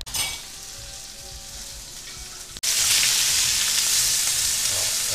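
Steak frying in a home kitchen pan, a steady broadband sizzle that surges louder after a brief break midway, continuing evenly with no talk.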